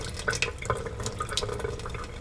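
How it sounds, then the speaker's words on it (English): A Keurig coffee maker slowly filling a small coffee cup in a hotel room, heard as a close, steady trickle with irregular drips splashing over a constant wet background. "It takes a long time even to fill up a little coffee cup for the Keurig maker."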